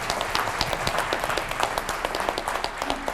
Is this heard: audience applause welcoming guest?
yes